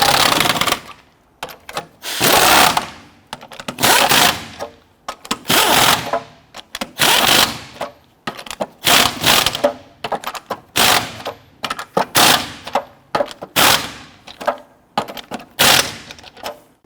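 A power tool snugs down lug nuts on a Honda Ridgeline wheel in a series of short, loud rattling bursts separated by pauses, close to the listener, with no talking.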